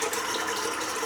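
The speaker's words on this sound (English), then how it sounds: "Let's fill the sink up." Water from a tap runs steadily into a bathroom sink being filled for a shave, a continuous close hiss and splash with no pauses and no voices.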